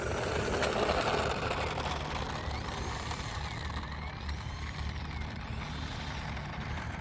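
A Freewing 64mm F-16 electric ducted fan model jet whines steadily through its flight, with a continuous loud rushing hum that shifts slightly in pitch as it passes.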